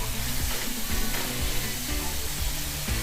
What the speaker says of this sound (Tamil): சும்மா இதெல்லாம் ஒரு 2 நிமிஷம் வதக்கினா போதும், அந்த பச்சை வாசனை போயிடும்